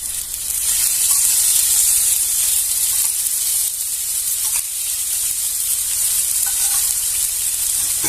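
Coriander bhakri, a traditional village flatbread, sizzles in oil on a pan with a steady, loud, continuous hiss that holds unbroken from start to finish, with no voices.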